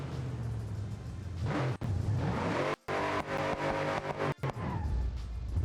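A supercharged Ford Mustang Dark Horse with a stage 2 engine in BeamNG Drive revs loud and close, with steady engine drone, rising pitch sweeps and two brief cutouts.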